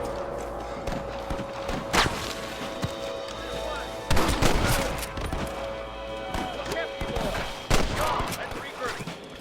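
Gunfire rattles through a shootout in the video game Red Dead Redemption, with scattered close shots and bursts over a busy background, and character voices talk amid the shooting.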